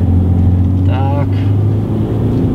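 Car engine held at full throttle on a race circuit, a loud steady drone running throughout, with a brief higher whine rising partway through; someone talks over it.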